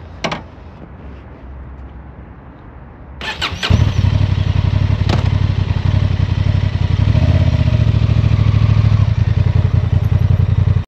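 A 2025 Honda Transalp 750 motorcycle starts after a few clicks and settles into a loud, close, steady idle with an even, throbbing engine note.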